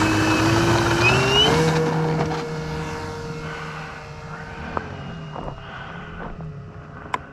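An RC F6F Hellcat warbird model plane takes off, its engine whining loud and rising in pitch as it accelerates, then fading steadily as the plane climbs away, with a few sharp clicks near the end.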